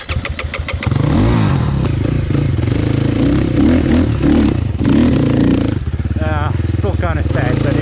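A two-stroke dirt bike engine on a trail runs loud and close, with a continuous buzzing drone and uneven revving throughout.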